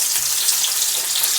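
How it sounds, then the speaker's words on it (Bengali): Chopped onion hitting hot mustard oil in a pan gives a loud, continuous, hissing sizzle throughout. "গরম তেলে দিয়ে দেবো কুচনো পেঁয়াজ"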